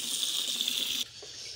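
Tap water runs steadily, filling chicken drinkers during a backyard hen-feeding routine, a close, continuous gushing hiss that cuts off abruptly partway through, leaving quieter room noise.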